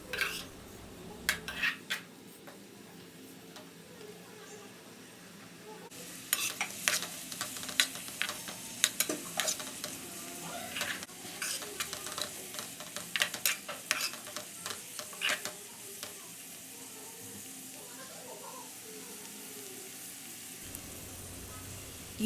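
Onions with salt and turmeric cook in a pan for a basic chicken curry. Quiet sizzling runs under repeated stirring, with bursts of spoon-against-pan clinks and scrapes, then a gentler simmer toward the end.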